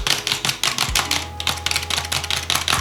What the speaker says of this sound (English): I also like that the key presses are pretty quiet.